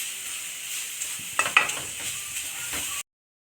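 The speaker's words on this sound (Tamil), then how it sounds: "இதை நல்லா நெய்யில் வதக்கிக்கலாம் ஒரு 2 மினிட்ஸ்" Grated carrot sautéing in ghee, a soft steady sizzle with a few brief clicks and scrapes of a spoon near the middle, then the sound cuts off abruptly to silence.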